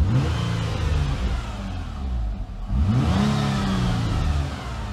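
A Nissan Altima SE-R engine runs close by with a steady mid-pitched drone, then dips and swells into a quick rev partway through.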